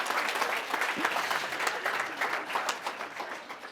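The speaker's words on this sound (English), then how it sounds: "let's give a final round of applause to these legends" An audience applauding pitch presenters at a secondary school game changer challenge, a dense, steady round of clapping from a crowd that fades slightly toward the end, with no talking over it.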